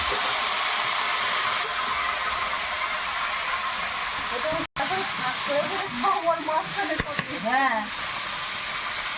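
Vegetables dropped into hot oil in a home kitchen give a steady broadband hiss and sizzle, briefly cut off midway, with people talking over it.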